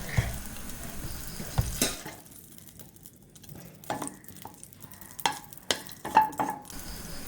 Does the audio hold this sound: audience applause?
no